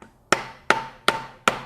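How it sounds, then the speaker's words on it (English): Four sharp, evenly spaced hammer blows drive a bushing into place on a car engine, each a loud metallic knock with a short ringing decay, close and alone. "to hammer it the rest of the way on."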